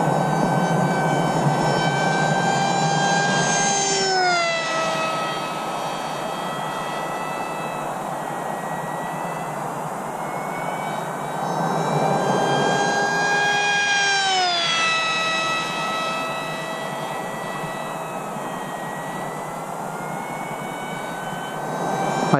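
Small RMRC Strix Goblin FPV plane's electric motor running at half throttle, a steady, loud, high-pitched whine with sliding pitch rises and falls as it passes, continuous without speech.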